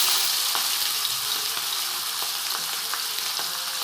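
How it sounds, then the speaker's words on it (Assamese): Fish heads sizzle in hot oil for an Assamese fish head curry, a steady close frying hiss with scattered small pops and spatters throughout and no talk. "প্ৰথমে মাছৰ মাথাকেইটা ভালদৰে ভাজি ল'ব।"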